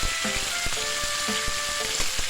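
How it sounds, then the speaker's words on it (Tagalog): Chicken dropped into hot cooking oil sizzles loudly and steadily, with sharp crackling pops and a few clinks of a utensil against the pan, no talking. "Mainit na, ilagay na natin ang ating chicken."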